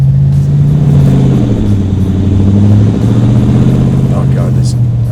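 A custom ICON Jeep Cherokee 4x4 with a HEMI engine, driving along with a steady mid-pitched engine hum and a shift in tone midway, close and fairly loud, while a person talks over it.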